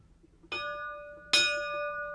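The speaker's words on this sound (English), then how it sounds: "ring the bell." A bell is struck twice, each ring sharp and clear with a long sustained metallic tone that slowly decays, in an otherwise quiet setting.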